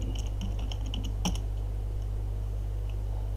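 Quick keystrokes on a computer keyboard while typing a WordPress download search into Firefox, clustered in a short burst over the first second and a half, then stopping, all over a steady low electrical hum.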